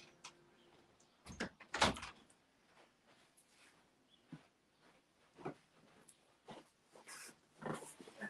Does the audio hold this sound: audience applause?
no